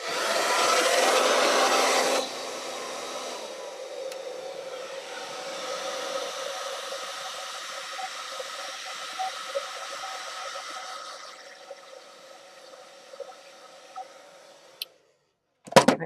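A hair dryer on its cool setting blows steadily across a stamped foam craft piece, a loud broadband whoosh that cuts down after a couple of seconds to a softer, continuous hum before clicking off near the end.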